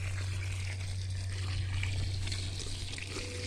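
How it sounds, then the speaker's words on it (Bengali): Water is poured steadily onto soil in a rooftop garden bed, making a continuous soft splashing and trickling under a low steady hum, with no talk. "তো ভালো করে জল দিয়ে দিচ্ছি।"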